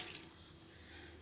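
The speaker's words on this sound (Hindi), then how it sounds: "इधर मैं 1 कप पानी डालूंगी" Water pours steadily into a cooking pot of keema matar with mince, tomatoes and onions, a continuous close splashing stream that holds at an even level for its short length.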